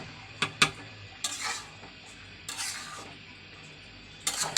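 Broken rice (khud) being washed in a pot in a home kitchen, with sharp clinks and scrapes against the metal in short bursts and splashy rinsing between them, fairly close and without talk.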